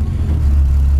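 A Bv 206 tracked vehicle's V6 petrol engine idles steadily, a loud, close, low rumbling drone heard from the driver's position.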